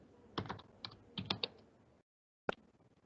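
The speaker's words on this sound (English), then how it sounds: "So first press enter and then start typing" Typing on a computer keyboard while writing a shell script in a text editor: a quick run of close, crisp key clicks, a short pause, then one final sharp keystroke.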